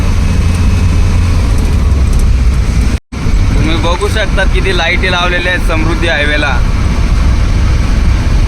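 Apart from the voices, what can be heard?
car driving at 80-85 on Samruddhi highway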